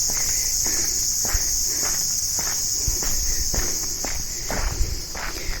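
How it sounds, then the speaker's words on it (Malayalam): Dense, steady shrill drone of cicadas fills a wooded path toward the Kattadikadavu viewpoint, with irregular footsteps crunching along beneath it; no one speaks. "ഇങ്ങനെ ചീവീട് ഇങ്ങനെ ഇലച്ചുകൊണ്ടിരിക്കുന്നു."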